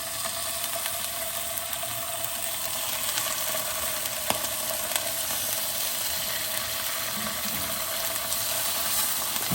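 Plaice fillets fry in coconut oil in a small non-stick pan, giving a steady, even sizzle with fine crackling throughout and a few sharper pops, close and continuous with no talking.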